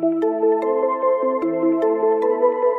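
An Omnisphere synth arpeggio layered with a bell for a trap melody: bright plucked notes repeat in a steady rhythmic pattern with shifting pitches, clear and prominent, alone with no voices.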